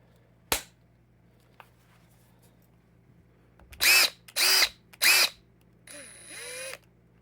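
A Snap-On CTQ861 14.4V MicroLithium cordless quick change tool with a 1/4in hex drive whirs in three quick, loud bursts, then a softer fourth run. One sharp click comes well before the bursts.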